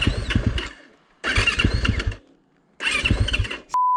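A four-stroke dirt bike engine revs hard in two bursts separated by pauses, each burst rising then dropping back toward idle, loud and close, followed by a sharp steady whistle-like tone at the end.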